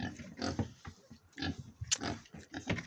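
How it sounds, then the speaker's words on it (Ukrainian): Pigs grunting and oinking on a farm, a run of close, fairly loud snorts and grunts in irregular bursts with a brief sharp squeal partway through. "Що, поросяти?"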